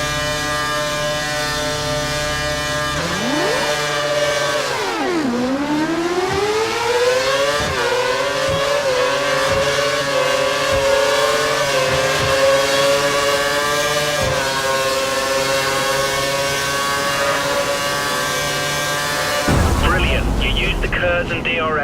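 An F1 2013 video-game Formula 1 car races and overtakes, its engine screaming loudly throughout with gear shifts that drop and climb in pitch, and a brief rush of other noise at the end.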